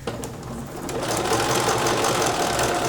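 A sewing machine runs steadily and fairly loud, close up, as it stitches the neckline of a bias-cut dress, building from a lighter start into a continuous, even whir.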